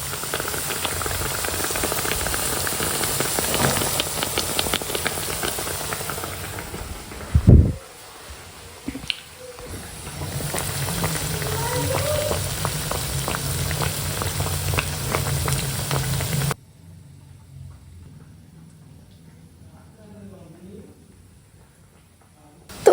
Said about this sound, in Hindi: और बस ये 2 ठो अभी तल रहा है।